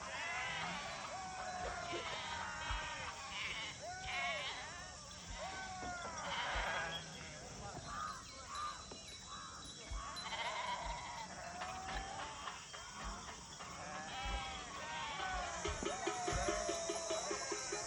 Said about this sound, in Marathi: ही मेंढी माऊली